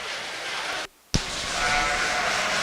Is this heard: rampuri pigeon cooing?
no